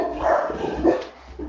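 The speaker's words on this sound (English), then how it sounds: "The dogs are barking, Linda," Kennel dogs bark in a quick couple of sharp, loud woofs nearby, with nothing else covering them.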